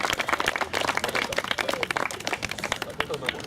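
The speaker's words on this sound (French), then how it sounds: "on peut applaudir bien fort les parents" Spectators at a taekwondo event clap for the athletes' parents, a lively burst of mixed handclaps with uneven rhythm, close and fairly loud over a murmur of crowd voices.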